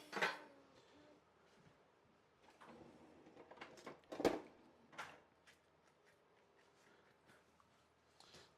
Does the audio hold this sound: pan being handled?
yes